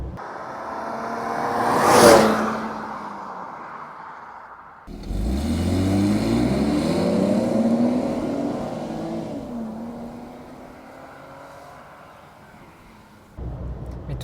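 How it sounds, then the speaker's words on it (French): A 1992 Mercedes 300CE-24 six-cylinder engine, heard from inside the car under kickdown through its 30-year-old automatic gearbox, climbs in a loud rising wail toward 7000 rpm, then eases off; an earlier whoosh passes before the run, and no voices are heard. "Et ça hurle jusqu'à 7000 tours minute."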